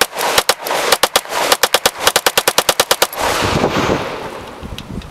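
An MPA 30 9mm gun firing outdoors near a kayak, a loud rapid string of about twenty close shots over three seconds, then a fading rush of echo and wind.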